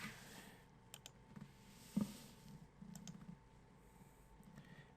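Soft keyboard typing on a computer while writing a reply in an online forum, light scattered keystrokes with one sharper click, faint and close over a quiet room.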